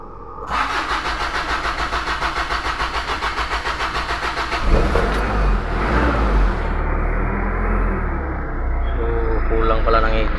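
A Mazda Titan Bongo truck engine cranks with a rapid rhythmic starter chatter, catches with a loud burst, then settles into a close, steady idle rumble.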